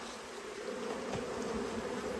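Honey bees buzz steadily around a queen cage at a hive, a continuous dense insect hum that stays even and close throughout with no voices.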